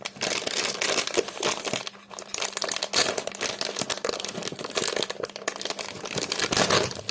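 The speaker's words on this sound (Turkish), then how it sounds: "Ben paketi çok kötü bir şekilde yırttım." A Trolli candy package is torn open with steady crinkling and crackling of plastic wrapper, close to the mic. The crunchy tearing runs in bursts for about seven seconds with brief pauses and no talk.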